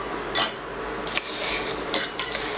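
Half a cup each of urad dal and chana dal goes into a pan for idli podi, giving a few scattered bursts of rattling, clinking grain against metal with no talk.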